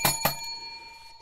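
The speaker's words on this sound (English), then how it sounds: "Ring the bell, everybody. Ring the bell." A small bell struck twice in quick succession during a live stock trading session, two bright ringing hits with a sustained tone decaying afterward.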